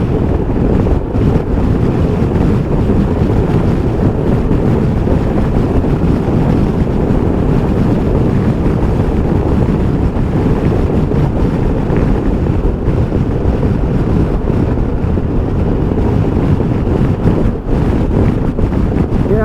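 Strong wind roars and buffets continuously while riding a 2021 Sym MaxSym 400 scooter on the freeway, a dense, steady rush that drowns everything else, with no talking.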